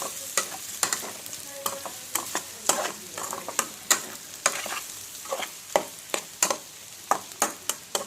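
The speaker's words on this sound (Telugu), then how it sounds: "స్టవ్ మంచి వేగనివ్వండి. తిప్పండి, మొత్తం కలుపుకోండి." Prawns stirred and frying in a pan on a stove for a prawn curry, with a steady sizzle and frequent sharp spoon scrapes against the pan in an irregular rhythm, close and clear with no talking.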